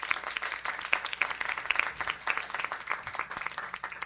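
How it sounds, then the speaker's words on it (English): Steady applause for Ms. Shebra Evans, a Board of Education leader, at a Montgomery County council session, many hands clapping in a dense, continuous patter lasting the whole stretch without speech. "so an applause for her and her leadership."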